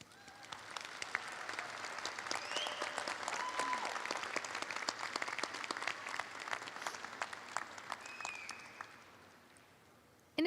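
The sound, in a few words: audience applause at commencement ceremony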